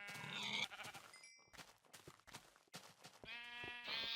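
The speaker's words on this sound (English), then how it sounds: "We have sheep that I can take out for me to hopefully get some wool." Sheep in the Minecraft Technic modpack bleat several times in quick succession, close and clear, amid other faint game sounds.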